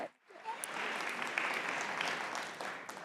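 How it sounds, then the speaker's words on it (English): A forum audience claps to welcome a speaker to the stage, the applause swelling quickly after a brief quiet start and holding steady, moderately distant and soft. "let's bring up Leah with a warm round of applause"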